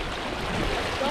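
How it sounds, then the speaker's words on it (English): Rushing river current on the Russian River, a steady broadband wash of flowing water heard close and continuous with no talk. "Cross a raging river."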